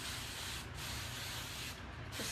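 Hairspray hisses from an aerosol can onto a Halloween pumpkin stacker decoration in long continuous bursts with two short breaks, close and fairly loud, no talking.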